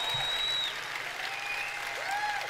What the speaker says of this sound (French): à un moment, on se demande même plus pourquoi ils applaudissent